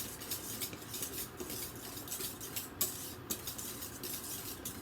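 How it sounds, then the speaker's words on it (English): Chocolate cream pie filling being stirred in a pot, with a steady close scraping and clinking of a utensil against the pan running throughout, no voices. "I'm going to keep stirring it."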